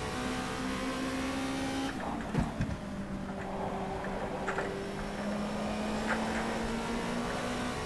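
A Formula 2 race car in the rFactor 2 racing game at the Sepang circuit in Malaysia drones steadily from the cockpit, its engine pitch dipping and climbing through gear changes and throttle at a corner exit.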